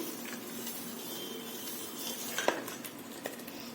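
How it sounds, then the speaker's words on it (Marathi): Sweet lemon pickle stirred in a pan after the heat is switched off, a low thick churning with a few faint spoon clinks against the pan rim. "पूर्ण हलवून हवा जाऊ द्यायची त्यातली"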